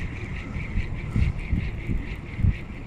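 Wind gusting past a microphone while fishing from shore, low rumbling buffets that swell and ease in irregular pulses over a faint steady hiss, no speech.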